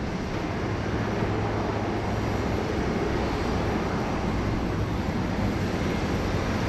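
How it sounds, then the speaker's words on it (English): Boeing 787 Dreamliner engines roar steadily at Sydney Airport, a loud, broadband jet rumble with a constant low drone, alone without talk. "We've got double Dreamliners."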